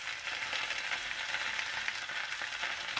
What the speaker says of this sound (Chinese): 一直要把大骨头煎到表面微焦的时候就可以了